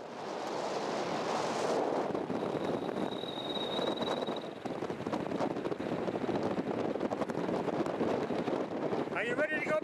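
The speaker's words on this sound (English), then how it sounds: "Man, oh man, it's windy up here." Strong wind buffets the microphone atop a fire tower in the Black Hills of South Dakota, a loud continuous roar with gusts, briefly joined by a thin whistle and a voice at the end.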